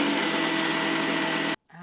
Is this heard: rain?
no